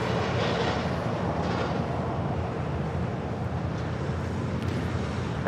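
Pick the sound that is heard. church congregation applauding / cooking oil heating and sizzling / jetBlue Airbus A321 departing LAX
jetBlue Airbus A321 departing LAX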